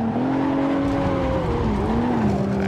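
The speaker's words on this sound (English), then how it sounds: "we are gonna try and slide this BMW with just a clutch." A BMW in the racing video game Forza Motorsport 7 slides using only the clutch, its engine droning loud and steady with pitch shifting and a tire squeal layered over it throughout.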